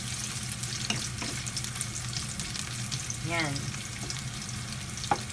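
Onions go into a pan with browned garlic for chicken teriyaki and fry with a steady, soft sizzle throughout, with occasional small clinks and a brief voice near the start.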